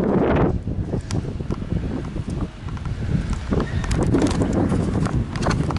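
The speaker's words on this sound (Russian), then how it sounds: "Да, ветер очень сильный." Strong wind gusts buffet the microphone while walking outdoors through a town's residential courtyards near construction sites, a steady broadband roar loud throughout with no talk.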